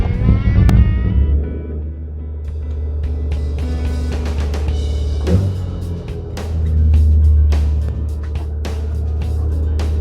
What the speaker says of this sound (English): The battery is hooked up, so I'm going to jump in and start the car up.